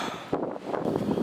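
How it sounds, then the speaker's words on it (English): Gusty wind on a rainy day in Rotterdam, a steady broadband rush with a few stronger buffets, loud and close to the microphone. "it's raining, it's windy"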